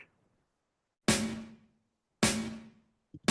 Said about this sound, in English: And then this is the whatever acoustic drum hit.